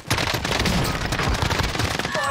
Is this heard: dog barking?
no